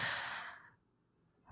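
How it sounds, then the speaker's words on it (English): A person exhales in one long, audible sigh-like breath close to the mic, which fades out into near silence. "Can you hear me breathing?"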